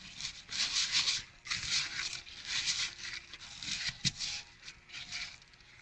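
Hot marshmallow mixture for s'more treats being stirred with two spoons, giving a steady close-up rubbing and scraping sound in uneven bursts, with no talking.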